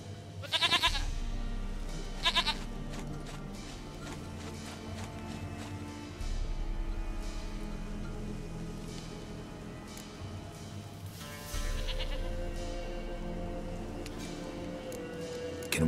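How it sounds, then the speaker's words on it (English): A goat bleats in The Witcher 3: Wild Hunt, two short bleats early on over a low, steady game background with faint ticking, no voices. "Goat of mine! Dearest, sweetest goat!"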